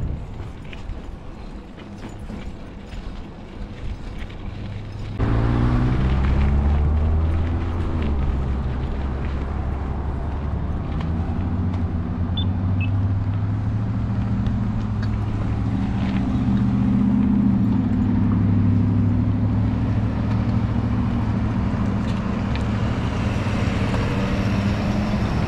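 A car pulls out onto a highway at night, with a steady engine and road rumble that swells sharply and stays loud as the car picks up speed.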